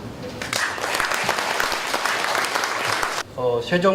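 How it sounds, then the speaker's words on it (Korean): Audience applause at a book launch for an essay collection, a dense burst of clapping from a seated crowd that runs for about three seconds and then cuts off as voices take over. "이 역사적인 헌신에, 이 감격적인 탄생에 뜨거운 경화의 박수를 보냅니다"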